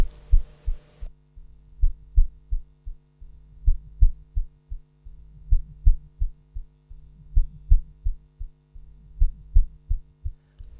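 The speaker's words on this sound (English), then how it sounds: "One more EQ to boost up the harmonics that the delay brings up, and here we go." A techno sample run through delay and EQ: deep, thudding kick-like pulses with echoing repeats over a low sustained hum, repeating in a steady, heartbeat-like rhythm, with no voices.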